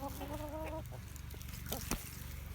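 A Barred Rock hen clucks in a backyard chicken run, giving a few soft, close calls at the start over a steady low background murmur, followed by scattered faint clucks and rustles.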